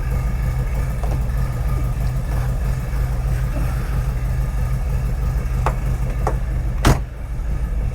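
A 1971 VW Bus engine idles steadily as it warms up, a constant low rumble held for the whole stretch, with a few faint clicks and a brief knock near the end.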